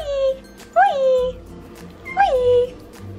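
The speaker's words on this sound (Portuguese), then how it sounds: "Ela sabia que é o cachorrinho" A puppy whimpers twice indoors, each a high, close whine that slides downward, separated by a pause over a low background hum.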